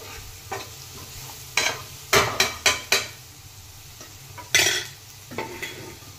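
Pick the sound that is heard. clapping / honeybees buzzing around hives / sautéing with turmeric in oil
sautéing with turmeric in oil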